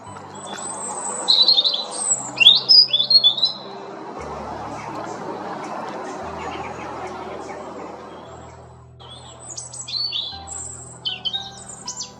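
A robin defending its territory gives sharp, high chirps and trills in short bursts, fairly near, over a low continuous drone of background music.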